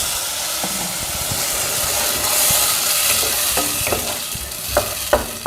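Ground tomato poured into hot oil with spluttered mustard seeds for bittergourd sambar, a loud steady sizzle and hiss with occasional pops and stirring scrapes near the end.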